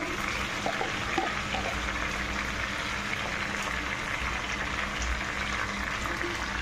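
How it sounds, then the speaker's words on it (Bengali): Butter melts into ghee in a pan, giving a steady, dense bubbling and fizzing sizzle that stays even and close throughout. "দেখো খুব সহজে ঘিটা গলে বেড়ে বেরিয়ে যাচ্ছে"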